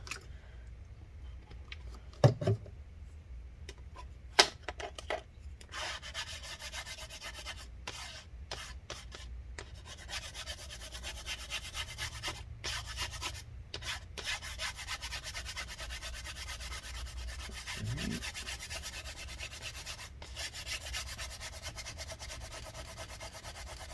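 Steady scrubbing and rubbing at adhesive residue on a 15-inch Mid 2014 Retina MacBook Pro A1398, using rubbing alcohol and paper towel, a close dry rasp in repeated strokes with a few sharp knocks early on.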